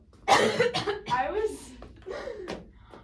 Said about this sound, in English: I'm gonna have a cough attack.